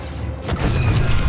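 Blaster fire from Star Wars Battlefront 2 hammering a wall, a sharp burst followed by a loud, sustained rumbling barrage of booming impacts close by, with no talk.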